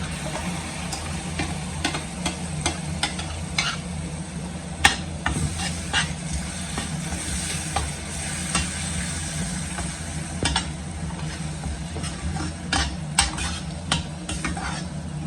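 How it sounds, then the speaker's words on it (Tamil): Tomatoes sauté in oil in a pan, giving a steady close sizzle with frequent stirring scrapes and occasional louder clinks against the pan, with no voices. "தக்காளி எண்ணெயிலே நல்லா வதங்கட்டும்"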